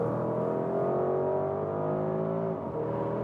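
Porsche Cayenne Turbo GT engine pulling hard on the Gotland Ring racetrack, a loud sustained rising drone from inside the car that eases slightly near the end.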